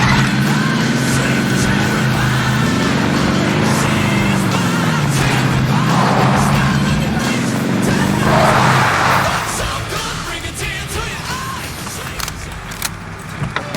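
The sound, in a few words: vehicle driving in the video game Warzone Caldera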